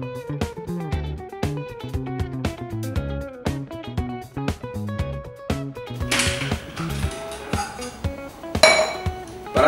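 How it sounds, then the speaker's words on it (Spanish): Ice and glass clink and rattle as an Absolut Mandarin vodka drink is mixed: quick repeated bright taps over background music, turning into a dense shaking rattle toward the end. "Ahora sí, vamos a mezclar la bebida"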